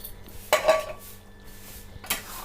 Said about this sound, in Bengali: আমরা ঢাকাটা খুলে একবার দেখে নেব।